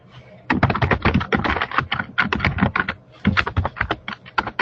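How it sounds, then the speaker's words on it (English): Rapid, close keystrokes on a computer keyboard clatter in quick bursts, with a short pause midway, and no voices. "you can hear someone typing."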